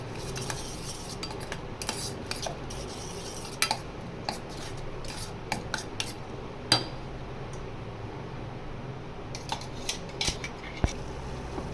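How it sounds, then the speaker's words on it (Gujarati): Metal utensils clink and scrape against a pan in scattered bursts over a steady low sizzle of crushed ingredients sautéing for masoor dal tadka, close by, with no one talking. "બે મિનિટ આને સાતળશું।"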